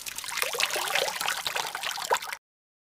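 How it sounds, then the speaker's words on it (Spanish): Water is thrown into a person's face as a punishment, heard as a close splash and pour lasting about two seconds before cutting to silence, with no talking. "te echo el agua en la cara"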